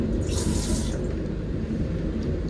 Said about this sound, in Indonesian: Ini keran untuk membasuh kaki di bawah